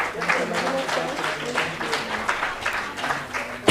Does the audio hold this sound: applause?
yes